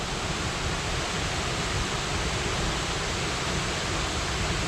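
Glencar Waterfalls in County Leitrim, Ireland, sends out a constant, dense rush of falling water, loud and unbroken from start to finish, with no voices over it.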